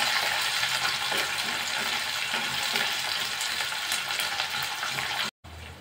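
Chopped onions sauté over a low flame in a pan with bay leaf and curry leaves for soya chunk kurma, giving a steady, close, continuous sizzle and crackle with no speech.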